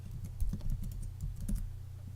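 Computer keyboard typing code, a quick run of close key clicks at an uneven rhythm with no talking.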